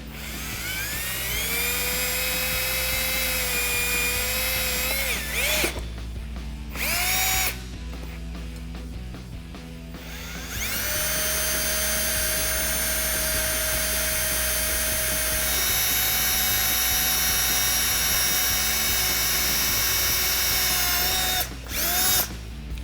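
A power drill with a larger bit bores holes into a Jeep Wrangler JL while a suspension lift kit goes on. It gives a loud, steady high whine that pauses twice briefly and then resumes, with no talking.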